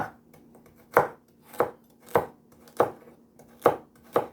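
A knife chops through a carrot on a cutting board in steady, evenly spaced strokes, seven crisp thuds heard up close with no talking, while preparing Jamaican hot pepper sauce.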